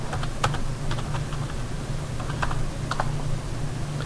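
Steady, quick typing on a computer keyboard while entering AutoCAD commands, a run of close, crisp key clicks over a low background hum with no talking.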